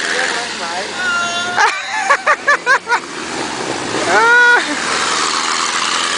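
A boat motor that is misfiring and running weak drones steadily nearby while people talk loudly over it, with a few short rhythmic bursts in the middle.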